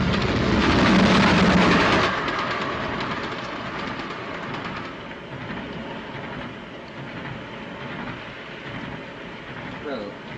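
A passenger train running on rails, a loud burst of rumbling noise for the first two seconds, then a steady, quieter rolling clatter continuing throughout.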